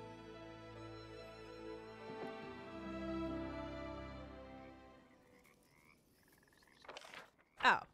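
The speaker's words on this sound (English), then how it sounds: "There are probably more frogs here." Frogs croak in a Pathfinder Kingmaker swamp, a low, sustained throaty croaking that fades midway, followed by a couple of loud, brief croaks near the end, with a faint voice in the background.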